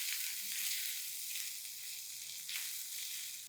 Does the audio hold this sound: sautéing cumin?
yes